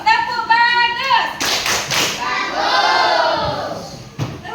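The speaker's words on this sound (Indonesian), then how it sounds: "beri tepuk bagus" A classroom of children performs a rhythmic group clap in a lesson, a burst of loud, sharp clapping with shouting voices following a teacher's sung prompt, then fading into chatter.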